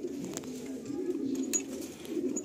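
Breeding pigeons coo in a low, steady murmur from a small loft section holding chicks and eggs, with a continuous soft rumble and no voices.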